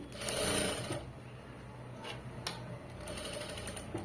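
A sewing machine stitches cloth for the front panel of a garment, running in a steady continuous whirr that swells loudest early on and then carries on evenly, with no talking over it.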